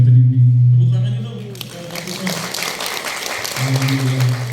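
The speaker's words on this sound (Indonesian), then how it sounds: "Tepuk tangan itu." At a Banten provincial gathering of the Indonesian catering association PPJI, the audience breaks into a couple of seconds of clapping. Humming tones and speech come before the applause and return after it.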